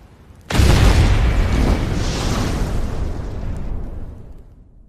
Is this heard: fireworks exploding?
yes